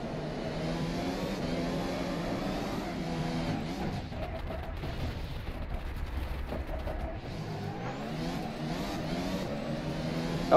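A formula racing car in the rFactor 2 sim, the FSR 2018 development car, revs and whines through rising and falling gear pitches, with a brief dip mid-run around a spin, steady and close with no talk.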